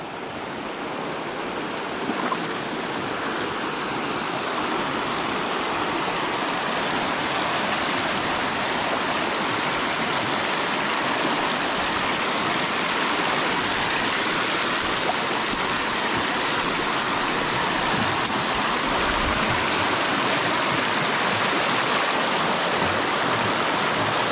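Running water pours steadily while washing on a farm, a loud, continuous rushing wash with no pauses and no talking.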